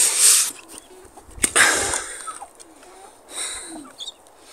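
Soft clucks and chirps from chicks, with brief pigeon cooing and rustling, scattered irregularly over a faint background hiss.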